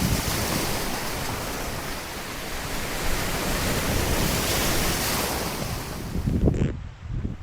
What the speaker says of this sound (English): The tide is pushing in, so we've got onto our mark.